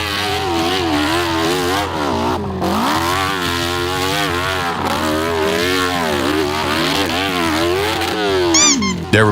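Dirt bike engine on a steep British hill climb, loud and close, revving hard in repeated surges and dips that climb and fall in pitch, with a sharp high squeal near the end.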